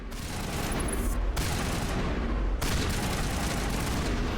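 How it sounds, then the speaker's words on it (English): Sustained automatic gunfire in the video game Mass Effect, a loud, dense barrage of rapid shots with brief breaks and sharp cutoffs, close and continuous throughout. "What are you guys shooting at?"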